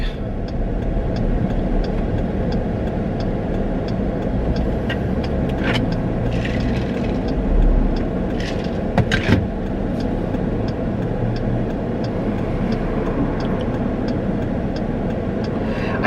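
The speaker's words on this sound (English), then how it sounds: "it's quitting hour traffic" Rush-hour car traffic with engines idling close by, a steady low rumble and hum with a few brief clicks and a passing surge of engine noise; no talking.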